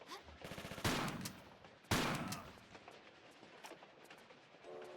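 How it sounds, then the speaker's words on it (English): Enemy gunfire in Tomb Raider 4 Remastered on a desert railroad: a rapid rattling burst followed by two loud sharp shots with ringing decay, then a quieter lingering ambience. "He shot at me."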